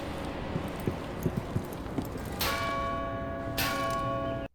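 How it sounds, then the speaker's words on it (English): Bell easter egg in the West Garden of a Rainbow Six Siege map: after a few soft knocks, a metallic bell is struck twice, each ring bright and sustained, fairly loud. "there is a bell, and this is located on the West Garden"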